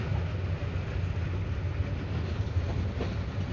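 A train rolls along the railway line toward Kurigram, Bangladesh, heard from on board as a steady, close low rumble with faint rhythmic wheel clatter and no talking.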